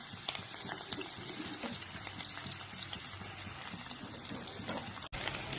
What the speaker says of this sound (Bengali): তো দেখো এই কচুর দিয়ে কত জল বেরিয়েছে এই দেখো এতটা জল এখনও পড়ছে জল